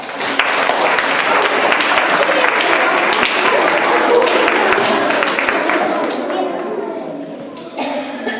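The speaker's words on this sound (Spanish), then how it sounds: "Un fuerte aplauso" Steady, loud applause from a school audience at a poetry day event for infant classes, continuous clapping mixed with children's chatter, easing slightly toward the end.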